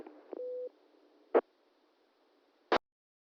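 Amateur radio repeater on the 2 meter band: a short steady electronic tone followed by two brief, sharp bursts about a second apart, against a quiet background with no voices.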